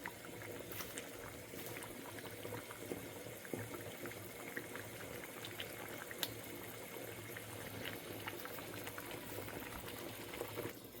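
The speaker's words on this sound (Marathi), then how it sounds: "आता हाय फ्लेमवर थोडंसं 2 बॉईल झाल्या की आपलं पनीर झालेलं असेल." Paneer boils in a pot of water over a high flame, giving a faint, continuous bubbling and seething with small pops throughout and no voices.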